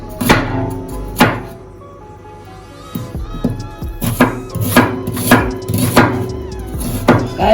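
A knife chopping seasoning vegetables on a board, in sharp, loud, uneven strokes with brief pauses, alone without talk.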